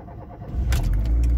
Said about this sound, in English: So now I will start the car.